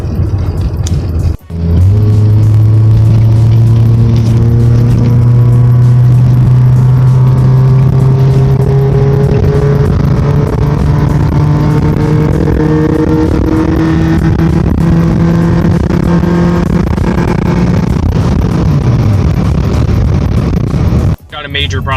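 Toyota Paseo engine pulling hard while driving, a loud close-up drone with rising revs through several gear changes, cutting out briefly at the start and end.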